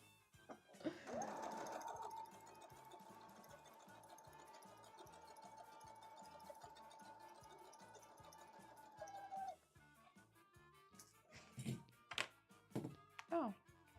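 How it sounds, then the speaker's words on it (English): A sewing machine hums steadily for several seconds, then cuts off abruptly, followed by a few soft knocks and clicks nearby. "I just unplugged the sewing machine."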